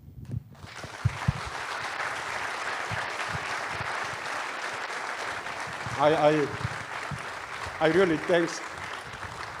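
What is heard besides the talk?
audience applause at conference closing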